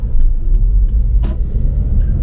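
A car passes close by on a city street with a loud low engine rumble and a brief whoosh midway, heard from near the roadside without talking.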